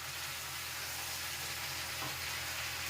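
Pumpkin pieces coated with spices, salt and oil fry in a pan, giving a dense, loud, unbroken hiss of sizzling close at hand.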